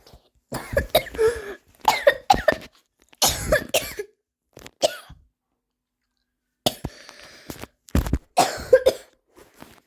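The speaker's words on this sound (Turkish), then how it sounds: "Her sesimle video çektiğimde böyle bir öksürük hastalığına yakalanıyorum." A person sick with a persistent cough coughs repeatedly in harsh, close bursts of two or three. The bouts are separated by short pauses and one longer silence, with no speech.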